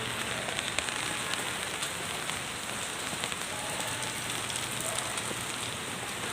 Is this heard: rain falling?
yes